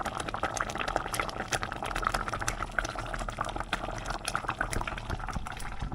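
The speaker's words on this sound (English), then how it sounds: "pan 1 is sounding nice and jammy" Jam bubbles and plops in a pan on the boil, a dense continuous simmer of small pops and gurgles, close and moderately loud with no talking.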